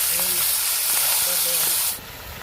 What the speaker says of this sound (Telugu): మొత్తానికి అయితే ఇట్లా నూనెలా కాసేపు ఫ్రై చేసుకోవాలి.